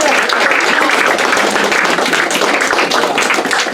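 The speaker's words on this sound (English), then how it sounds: "Give him another round of applause." Close, loud applause from a magic show audience cheering a mind reader, a thick continuous patter of many hands filling the whole stretch.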